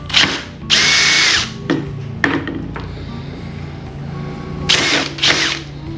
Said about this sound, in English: we're taking a 7/16 drill bit and we're enlarging our hole on only one side